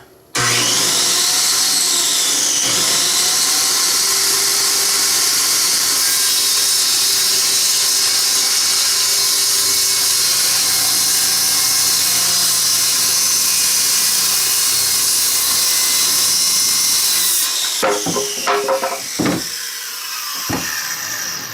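A power saw cutting wood for a building frame, producing a loud, continuous whining rasp for most of the stretch before stopping abruptly, followed by a few short knocks.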